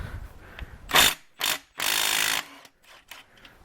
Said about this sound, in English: with your 3/4 impact ratchet